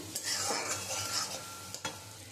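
Spices with turmeric and chilli powder are stir-fried with rohu fish in a pan, giving steady sizzling broken by scraping stirs and a couple of sharp spatula knocks, close up.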